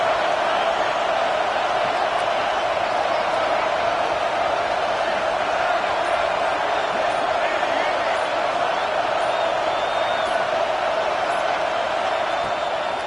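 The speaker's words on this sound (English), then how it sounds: "This crowd, full throat, splitting the eardrums" A stadium crowd at a football game roars in a constant, loud wash of massed voices that holds steady throughout without letting up.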